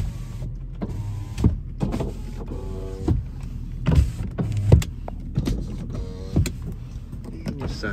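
Sunroof motor on a 2010 BMW 535i whirring inside the car cabin, a steady electric hum with several clicks and thumps as the panel moves.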